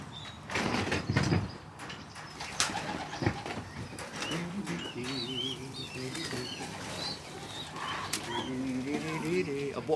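Young racing pigeons coo in low, rolling bursts and flap their wings now and then, close by, while someone talks over them in a loft.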